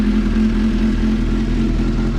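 A newly bought motorcycle's engine runs steadily nearby, a constant low mechanical hum and rumble with no revving, moderately loud and alone.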